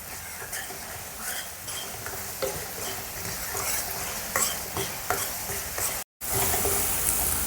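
Masala for a village-style eel fish curry is stirred and fried in a pan, a continuous soft sizzle broken by repeated scraping strokes of the spoon, fairly close and without voices, ending in a brief dropout.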